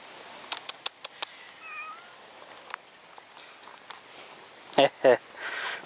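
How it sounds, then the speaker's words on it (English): Several short, high meows ring out near the start, then two louder, sharper cat cries near the end, with crickets and faint rustling outdoors in between. "Still meowing. Probably hungry or something."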